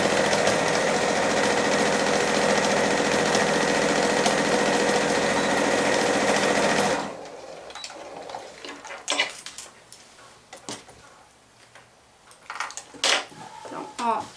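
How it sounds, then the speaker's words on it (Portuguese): A sewing machine runs steadily and loud for about seven seconds while stitching a reinforcing backstitch on a shopper bag. It then stops, leaving quieter handling clicks and rustles. "eu vou fazer uma costura de reforço aqui dando retrocesso"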